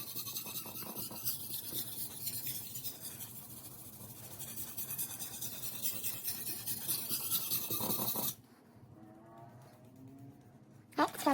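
Chef's knife rubbed back and forth on a whetstone to raise a burr, a continuous close gritty rasping with rhythmic strokes that stops abruptly near the end, leaving quiet with a faint voice.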